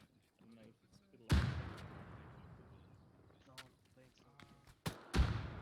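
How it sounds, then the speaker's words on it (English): Frag grenade lobbed and detonating in the military shooter game Operation Falconer: a sharp, heavy blast with a long rumbling decay, followed later by further booming impacts, with voices talking over much of it. "Frag out southwest."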